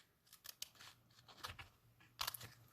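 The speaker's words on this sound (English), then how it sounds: "I am just going to take a pair of scissors and just trim that using the paper edge as a guide" Scissors trim along a paper edge in a short run of sharp, crisp snips that come close together and finish with one louder cut, heard close up with no talking.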